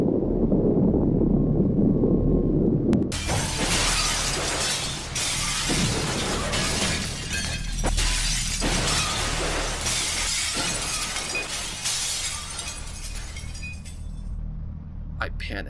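Glass walls shattering in a long, loud cascade of breaking and tinkling shards, which bursts in abruptly after a low rumble and rattles on for several seconds before thinning out.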